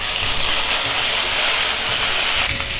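Onion paste hits hot oil in a pan with bay leaf and cumin for chana ghugni, giving a loud, continuous sizzling hiss that swells briefly near the end.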